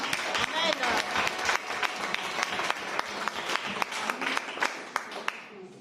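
A church congregation applauds, dense crackling handclaps from many people filling the room with a few sharper individual claps standing out, loud and steady, and voices partly mixed in underneath.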